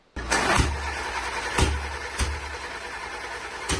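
An old engine, unused for over 40 years, cranks and catches in a loud burst, then settles into a rough running idle with several sharp, repeated knocks or pops.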